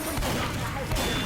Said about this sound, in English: I'm also using my shotgun just to mess around.